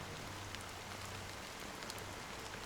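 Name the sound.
fine drizzle of rain in Honkai: Star Rail video game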